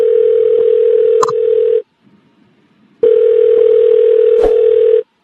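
Telephone dial tone from a phone call, a loud steady tone in two bursts of about two seconds separated by a short silence.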